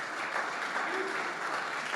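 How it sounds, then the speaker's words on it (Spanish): A church congregation claps steadily through the whole moment, dense and sustained applause filling the room without pause, with a faint voice briefly audible beneath it. "¿Por qué no le das un fuerte aplauso al Señor por su gracia?"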